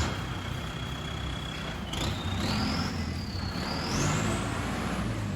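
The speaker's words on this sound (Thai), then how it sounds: "เครื่องยนต์ก็สตาร์ทติดง่ายนะครับ เครื่องปกติ" Diesel engine of a Kubota L5018 4WD farm tractor fitted with a turbo, a front dozer blade and a plough, idling steadily and fairly close, with a high whine rising and falling over the continuous rumble.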